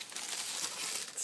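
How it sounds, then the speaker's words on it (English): Gift wrap paper crinkles and rustles continuously at close range for about a second, dense and papery with no other sound. "I'll trace on top of it with gift wrap paper"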